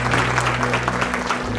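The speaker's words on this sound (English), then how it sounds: "So one more round of applause for our outstanding board that does a great job for" Applause for a school board at an education event, a dense steady clapping through the whole short stretch, with a low steady hum underneath.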